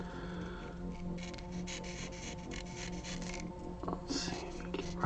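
Steady scratchy rubbing of sandpaper against a model, sanded by hand, continuous back-and-forth strokes at close range with a low background hum.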